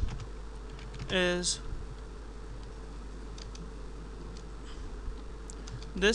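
Typing on a computer keyboard during an HTML tutorial, a burst of quick rapid key clicks near the start and another at the end, close up over a steady low hum.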